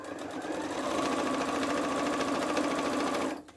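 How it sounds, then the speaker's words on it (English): A sewing machine stitches through fabric in one steady, rapid run of about three seconds, close and even, then stops. "We're going to sew to that second pen mark."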